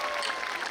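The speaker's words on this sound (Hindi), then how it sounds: "जोरदार ताली बजाओ" Audience applause at a Hindi comedy poetry gathering (hasya kavi sammelan), a short steady burst of clapping from a crowd without speech.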